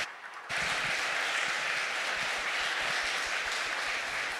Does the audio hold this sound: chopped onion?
no